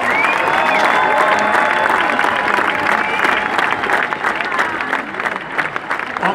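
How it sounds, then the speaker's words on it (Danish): A festival audience at the Vordingborg Festuge applauds a band as it leaves the stage, with loud, sustained clapping and some cheering. A voice speaks over the applause. "Lad os lige klappe dem rigtig godt på vej ud af scenen"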